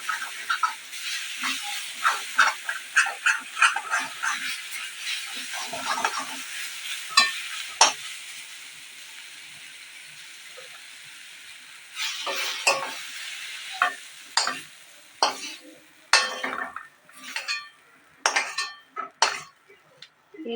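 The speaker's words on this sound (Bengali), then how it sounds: "আমি নেড়ে চেড়ে ঘাটকোল শাকটাকে ভালো করে ভেজে নেব।" Ghatkol greens being stirred and fried in a pan, with sizzling and repeated scraping and clattering of a spatula against the metal, close and loud in bursts around a quieter stretch, with no speech.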